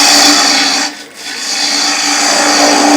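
A traditional-grind bowl gouge cuts a spinning wooden bowl on a lathe, giving a loud, steady rasping hiss that briefly dips midway.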